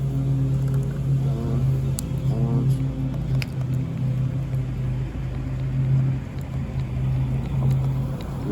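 Close up, a small HPI RS4 nitro RC car engine runs with a steady, buzzing drone, its pitch holding fairly constant with slight wavering throughout.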